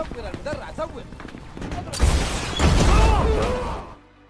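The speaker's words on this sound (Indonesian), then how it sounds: "Setelah itu, sebuah RPG ditembakkan kembali." In a war film about a sniper, an RPG rocket is fired amid gunfire and voices: scattered shots, then a loud roaring blast and rumble that swells and dies away abruptly.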